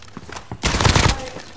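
Rapid burst of video game gunfire erupts loudly and close for about half a second, a dense crackling volley following a brief quieter stretch.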